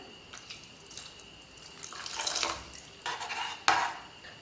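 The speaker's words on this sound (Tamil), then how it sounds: "புளி கரைசல் சேர்த்ததுக்கப்புறமா கொஞ்சமாக தண்ணி சேர்த்துக்கிறேன்" Water is poured into a pot of tamarind-based kuzhambu curry in a few splashy bursts, with a metallic clink of cookware partway through.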